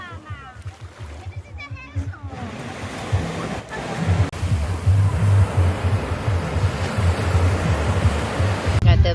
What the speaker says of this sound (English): At the beach.